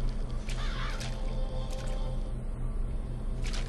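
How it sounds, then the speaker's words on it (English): Crows cawing in the BioShock Infinite video game, several harsh caws scattered over a loud low-pitched droning background. "Ah, the birds!"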